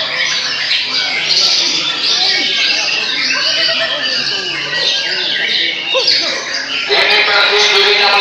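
Magpie robins singing at a songbird contest, many loud overlapping squawks and chirps filling the air with a crowd and an announcer talking over them.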